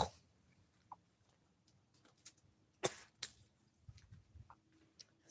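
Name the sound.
coughing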